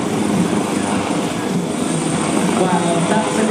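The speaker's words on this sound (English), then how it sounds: "the helicopter from the Italian Coast Guard, similar to the Armed Forces of Malta's helicopter," Italian Coast Guard helicopter flying nearby at an airshow in Malta, a loud continuous rotor and engine roar, steady for a few seconds.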